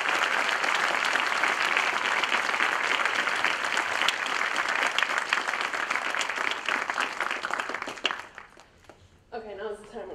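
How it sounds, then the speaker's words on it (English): Audience applause at an awards event, loud and sustained for about eight seconds before dying away, with a voice briefly heard as the clapping fades. "So let's give her a round of applause for Celia."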